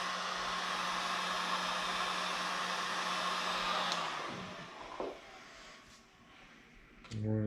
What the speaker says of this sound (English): So I've actually got a heat gun on low heat.